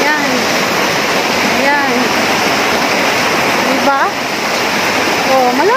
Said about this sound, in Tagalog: Mayroon parang magandang ilog dito.